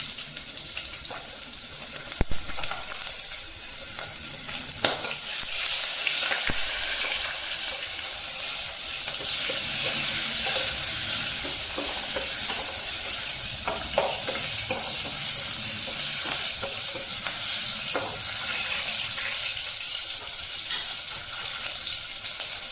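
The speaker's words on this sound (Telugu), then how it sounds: "నూనె వేడెక్కిందండి, దీంట్లో చిందులపాయలు వేసుకుందాము" Shallots and a small onion fry in hot oil, a constant close, loud sizzle with scattered pops and crackles that holds steady for over twenty seconds without any talking.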